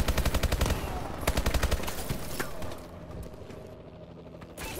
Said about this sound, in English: Friendly Vulcan above.